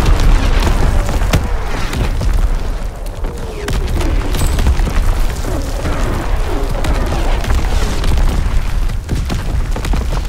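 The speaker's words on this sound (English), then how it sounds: "Incoming enemy artillery! Get to cover!" Incoming artillery shells from Call of Duty: WWII land in a steady, dense barrage of deep booms and rumbling explosions that keep the loud wash going throughout, with no break in the bombardment.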